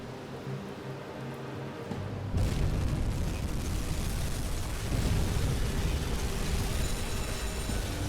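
Torpedo explosions strike ships in the submarine game Uboat, a sudden loud roaring blast that swells into a dense, sustained rumble with a second surge partway through.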